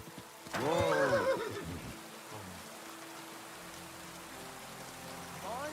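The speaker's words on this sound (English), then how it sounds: "My, what a beautiful horse." A horse in the video game Kingdom Come: Deliverance II gives one loud, drawn-out whinny near the start, then a steady patter of rain carries on, with a faint second call at the end.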